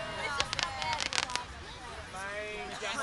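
Ferragosto fireworks at Lido degli Estensi crackle and pop in a rapid cluster of sharp bursts, then fade into a distant rumble, with people talking and whistling tones underneath.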